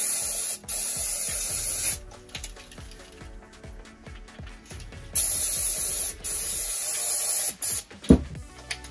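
Aerosol cleaner sprays in repeated sharp hissing bursts into a Paslode IM65 second-fix nail gun during servicing, close up, with clicks and rattles of the tool between bursts.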